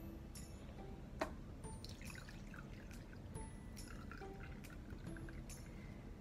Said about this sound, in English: First, we're just going to fill it up with water.